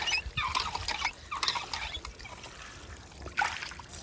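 Water trickles and splashes while hiking shoes are rinsed out outdoors on a Florida trail, with uneven dribbling and spattering bursts close by.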